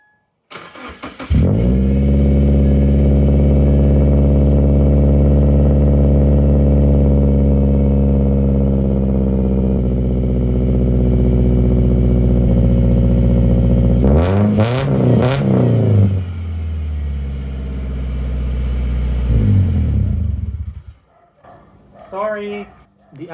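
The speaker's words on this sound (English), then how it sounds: "I'm gonna turn on the car and find out what this new exhaust is all about" A Subaru FB engine with a Nameless 2.25-inch resonated mid-pipe exhaust starts up and settles into a loud, deep, steady idle, then revs briefly with rising and falling pitch before shutting off, a voice speaking faintly near the end.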